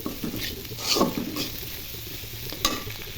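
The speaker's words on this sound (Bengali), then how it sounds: "ভালো করে নেড়ে মাখিয়ে দিব" A utensil stirs salted Cocola instant noodles with fried egg in a hot pan, giving soft scraping strokes and a low sizzle, with a couple of sharper clinks against the pan.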